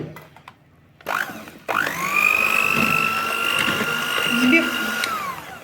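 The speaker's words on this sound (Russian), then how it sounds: "И теперь нужно еще раз это слегка взбить." A steady electric mixer whirs continuously at close range after a brief quiet start, whisking cottage-cheese cake batter, its high motor whine holding level throughout.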